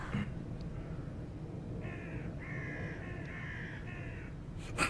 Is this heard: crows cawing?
yes